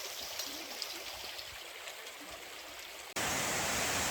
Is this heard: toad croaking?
no